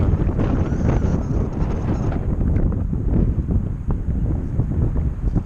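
Strong, steady wind roars and buffets the microphone at an outdoor field where an E-flite UMX Citation Longitude twin 30mm EDF RC jet is flown, a dense low rumble that continues without a break and carries no talk.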